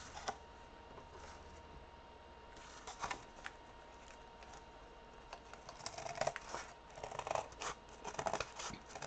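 Scissors snip through quarter-inch paper strips in a quiet room, giving scattered sharp cuts that cluster into quicker snipping toward the end.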